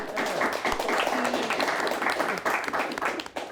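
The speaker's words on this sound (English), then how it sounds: "Let's give them a nice round of applause." Studio audience applause at a televised high school quiz show, a steady dense patter of clapping filling the whole stretch at moderate loudness, with a brief underlying murmur of voices.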